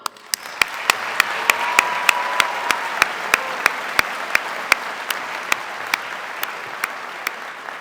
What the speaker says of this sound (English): So I know you guys have been applauded a lot tonight, but let's give it one more go.